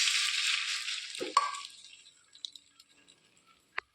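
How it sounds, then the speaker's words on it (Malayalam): Tomato chutney poured into a hot tempering of mustard seeds, dried red chilies and curry leaves gives a loud hissing sizzle that flares once, then fades to faint crackles and a final pop. "വറ്റൽമുളകും കറിവേപ്പിലയും ഇട്ട് താളിച്ചതിലേക്ക് നമുക്ക് ടൊമാറ്റോ ചട്നി ഒഴിച്ചു കൊടുക്കാം"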